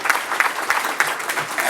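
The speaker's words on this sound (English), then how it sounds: "let's give Congressman Rokita a nice round of applause" An audience at an aero club meeting at a country club gives Congressman Rokita a brief round of applause: steady, moderately loud clapping from a roomful of people, with no voices.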